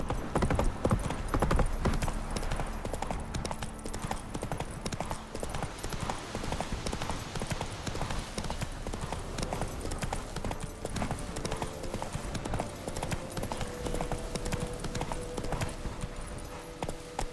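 Horse hooves clip-clop in a steady, driving rhythm throughout in The Witcher 3 Next Gen, loud and continuous, with an occasional faint snort or whinny.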